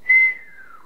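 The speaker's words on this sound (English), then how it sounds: "if you whistle yourself, or even if you can't and you just pretend to, start at a high pitch, go down." A single human whistle starts high and glides steadily downward, loud at first, then fading over under a second, heard alone.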